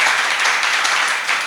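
Steady audience applause and clapping at a Jain religious discourse, a dense continuous wash of many hands filling the hall, with no voices over it.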